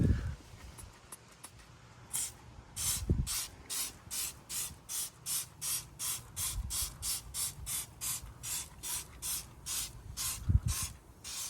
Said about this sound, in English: let's try out this new wheel cleaner